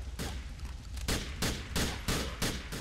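Gunfire in the video game GTA The Lost and Damned: a quick run of about eight sharp shots in a steady rhythm, close and punchy, with no talk over it.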